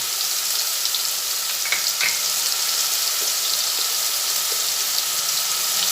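Onion and garlic paste frying in a pan for chicken ghugni, a steady, hissing sizzle with faint crackles throughout, close and moderately loud with no talk.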